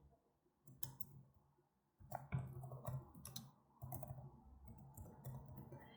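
Quiet computer mouse clicks while building a presentation, a handful of sharp, isolated taps spaced irregularly over low room noise, with no voices.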